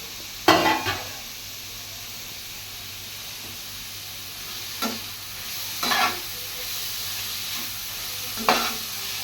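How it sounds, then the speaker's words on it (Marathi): Grated bottle gourd sizzles steadily in hot ghee, a continuous close frying hiss broken by a few louder scraping bursts as the mixture is stirred, with no talking. "तूप हलकेसे गरम झाल्यानंतर या ठिकाणी जो आपण भोपळा किसून घेतलेला आहे तो मी घालून घेत आहे"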